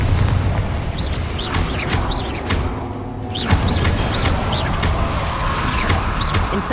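Repeated fiery blasts from the Confringo spell in Hogwarts Legacy, several booming bursts spaced through a dense, loud layer of combat noise, with a deep low rumble persisting underneath.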